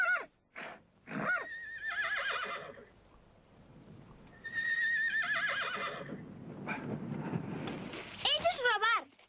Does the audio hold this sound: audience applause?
no